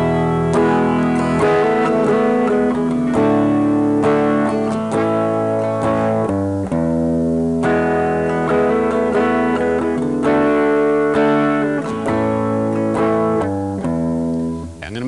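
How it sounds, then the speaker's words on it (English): Guitar strums a sustained chord progression, chords ringing and changing every couple of seconds in a full, steady, moderately loud wash with no voices over it. "I'll play the chord progression that's in my mind first."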